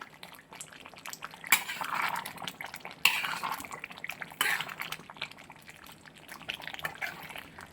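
Assamese pork curry is stirred in a pot, giving soft scraping and a few sharp metallic clinks of the spoon against the pot, close and fairly quiet over a low background hiss.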